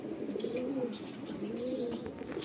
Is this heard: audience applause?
no